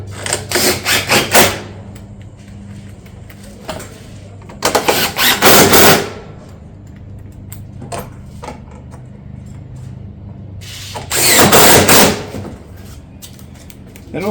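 Mission cap roof tiles being fastened along a barrel vault ridge, with three bursts of sharp clattering impacts set against a steady low hum and quieter scattered taps between them.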